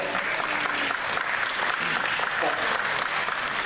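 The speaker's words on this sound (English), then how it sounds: "We're all clapping for you" Church audience applauding teachers, a dense, loud, continuous round of clapping from a large crowd that fills the whole moment, with voices faintly mixed in.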